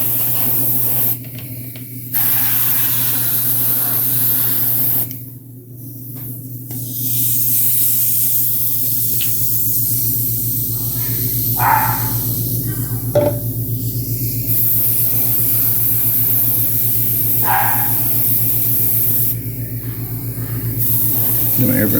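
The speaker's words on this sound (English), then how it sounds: "My airbrush turned up a little bit, and that's why it's kind of fogging everywhere." An airbrush turned up high sprays a fine fog of paint over pastel-coloured edges. It makes a loud, steady hiss in long bursts with brief pauses, over a constant low hum.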